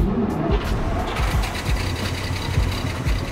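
A vintage Rolls-Royce 20HP car engine starts up and settles into a close, loud running rhythm of rapid regular chugging pulses, with no talk over it.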